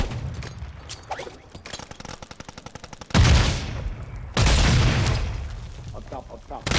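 Battle royale gunfire: a rapid string of automatic shots clicks off first, then two heavy, loud bursts of close weapon fire and booms hit, with voices talking between them.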